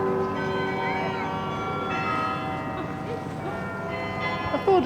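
City church bells ring out on New Year's Eve, a layered, sustained peal of overlapping tones that carries over a busy street ambience throughout.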